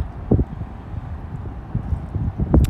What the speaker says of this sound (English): It's a little windy in Daytona